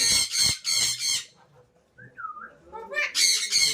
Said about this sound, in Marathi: पोपट कुठे पोपट तू काय करतो विटू